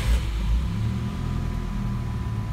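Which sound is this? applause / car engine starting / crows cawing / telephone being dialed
car engine starting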